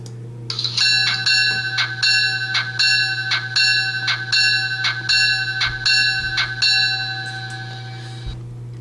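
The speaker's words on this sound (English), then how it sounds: "So first we'll just take a listen to the bell." A model GMD-1 locomotive by Rapido with an ESU LokSound decoder rings its bell in a steady rapid series of bright metallic clangs, loud and close, about a dozen strikes over a low constant motor hum.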